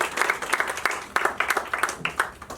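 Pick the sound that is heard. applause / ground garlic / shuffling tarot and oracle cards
applause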